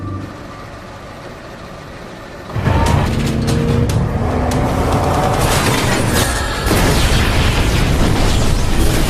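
Phone tower blown up in a fantasy TV series: a sudden loud blast after a quiet stretch, followed by sustained roaring rumble and debris bursts that stay loud to the end.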